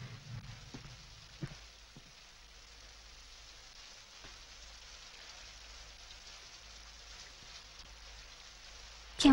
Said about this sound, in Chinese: 外边下雨了